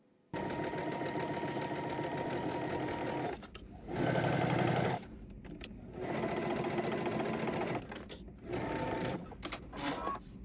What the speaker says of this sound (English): Okay, we're going to head to the sewing machine. We're going to stitch down using 5/8 of an inch seam allowance.